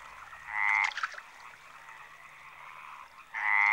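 Common frogs call in two bursts, one near the start and one at the end, each a dense rasping croak chorus with a quiet stretch between them, outdoors in central Spain.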